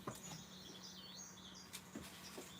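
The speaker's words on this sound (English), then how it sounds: "Hey Siri, play the sound of birds." Recorded forest bird song played back through a phone assistant's speaker: faint high chirps and warbling tweets over a soft hiss, with a few light clicks, fairly distant and quiet.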